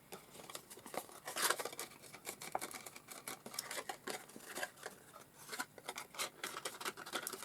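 Scored cardstock folded by hand into Tonic Winter Wonderland boxes gives a quick run of crisp crinkling snaps and scrapes, close up and moderately loud, with no voices.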